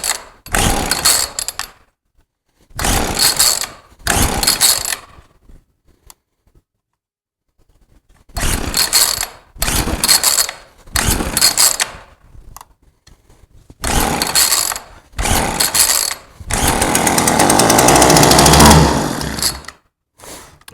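An old chainsaw is pulled repeatedly in short bursts of sputtering engine noise separated by silences, then catches and runs with a sustained rough roar near the end.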